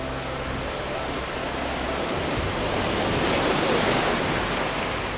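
Light waves rush to shore at An Bang Beach in Hoi An, a steady, broad surf roar that swells slightly midway and continues without pause.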